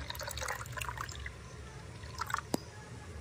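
Milk poured from a bowl into a watermelon rind makes a soft, close trickle that briefly swells, ending with a small splash, over a low background rumble.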